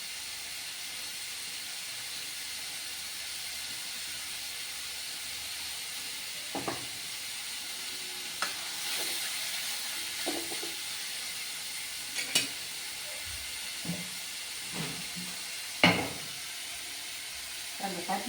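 Onions sautéing with a pinch of salt in a pan, a steady soft sizzle throughout with occasional louder scrapes and taps of a spatula against the metal.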